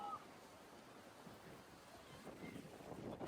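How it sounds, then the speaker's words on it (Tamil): Strong wind buffeting the microphone on the road up to Ponmudi hill station in Kerala, a fog-covered parking area reached by bike, a steady low roar and rumble that swells toward the end, with no talk. "பயங்கர காத்துங்க."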